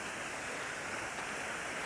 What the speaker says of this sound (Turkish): bayağı da gürültülü suyun sesinden dolayı